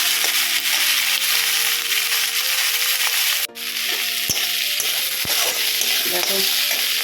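Cauliflower curry sizzling loudly in a hot pan, a constant frying hiss with a few scraping stirs of a utensil partway through.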